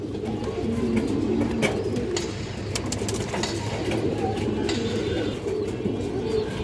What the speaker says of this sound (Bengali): বড় সাইজের একটা বাঘা মাদি কবুতর আছে